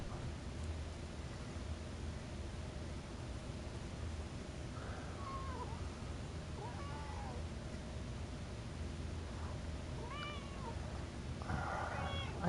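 A cat meows and whines indoors several times, its calls soft to moderate and somewhat distant, rising and falling over a quiet room hiss.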